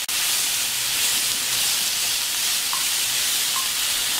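Shrimp fry in a pan with pepper and garlic, giving a steady, loud, close sizzle and hiss that carries on without a break, with no voices.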